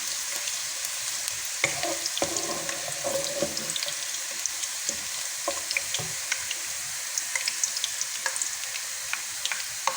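Boiled chicken hits a hot pan for fried rice, giving a steady close sizzle and hiss with scattered crackles and pops that runs the whole time, no talk.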